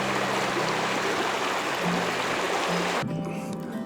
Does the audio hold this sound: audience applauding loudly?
no